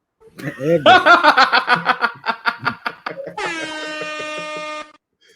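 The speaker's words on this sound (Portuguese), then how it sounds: "tocou foi uma buzina." An air horn sounds during a football analysis show. First comes a run of rapid, stuttering honks with a laughing rhythm, then one steady, loud blast that holds for over a second and cuts off sharply.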